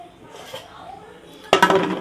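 A pressure cooker lid is set in place and the weight dropped on, making a sudden loud metallic clatter and rattle in the second half after a quiet kitchen lead-in, while coconut rice jaggery kali is cooking.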